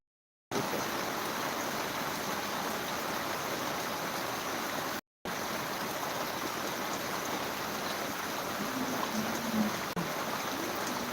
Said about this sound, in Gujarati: જબરજસ્ત વરસાદ મિત્રો આટલો વરસાદ આવે એવો અનુમાન નહીં હતું એટલો વરસાદ આવતો છે